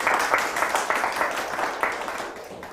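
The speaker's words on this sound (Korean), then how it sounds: "박수 부탁드리겠습니다" An audience at a Korean award ceremony for rooftop and artificial-ground greening applauds, a short burst of dense clapping that swells and fades over a few seconds without speech.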